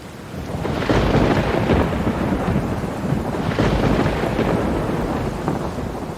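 Heavy rain pours steadily while deep rolls of thunder rumble through, swelling twice, with no voices.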